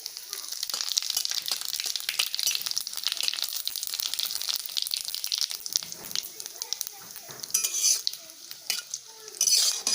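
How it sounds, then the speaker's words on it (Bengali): Whole cumin seeds fry in hot oil with bay leaves and dried red chilies, giving a steady, close, bright sizzle broken by frequent scraping stir strokes and a few louder bursts near the end. "গোটা জিরে ভেজে নেওয়া হয়ে গেছে"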